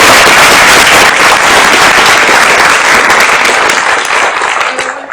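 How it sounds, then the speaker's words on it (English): An audience at a city's State of the City event breaks into loud, dense applause that stays full and close, then thins out and tapers off near the end. "So now you could please join me in a big round of applause."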